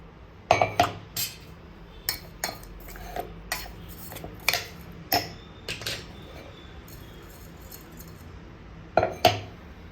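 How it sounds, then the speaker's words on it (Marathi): Ground peanut mixture for jaggery peanut laddoos being scraped out into a bowl, heard as a scattered series of close metallic clinks and taps of spoon against container, irregular and fairly quiet. "तयार झालेलं मिश्रण बाउलमध्ये काढून घ्या"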